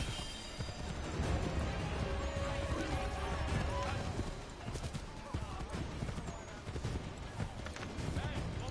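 Horse hooves clip-clop in Assassin's Creed 3 gameplay, a busy rhythmic trotting mixed with a whinny and other game noise, under someone talking.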